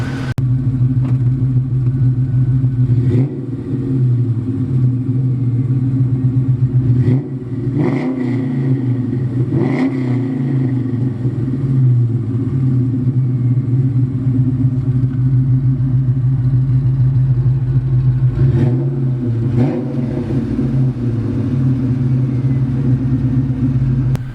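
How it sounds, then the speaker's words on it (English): Cammed NewEdge Ford Mustang engine idling with a loud, lumpy rumble close by, punctuated by about four sharp throttle blips that rise and fall back to idle, no talk over it. "I'm going to give it a couple revs so Austin can hop behind"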